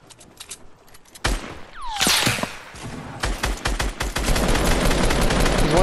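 Gunfire bursts out in Fortnite, including a sniper rifle shot, with sharp cracks and rapid shots piling into dense, loud firing after a quieter start.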